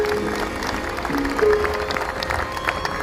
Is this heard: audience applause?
yes